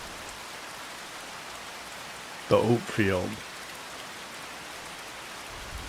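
Steady rain falling across a farm field in Farming Simulator 25, an even close wash of patter throughout, with someone briefly talking over it midway.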